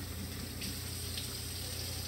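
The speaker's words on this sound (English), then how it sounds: "Oh, let's get some water in this pan." Tap water running steadily into a cooking pan in a home kitchen, a faint continuous hiss and gush with no talk.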